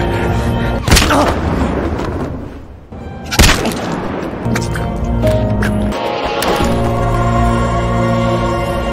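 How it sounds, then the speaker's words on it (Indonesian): Sniper rifle shots in a Korean action film scene where police target a man hanging outside a high-rise: sharp, loud bangs stand out at intervals over a dense, rumbling score and background noise. "Dua peluru sniper bersarang di tubuh Shin-woo yang membuatnya tewas terjatuh saat itu juga"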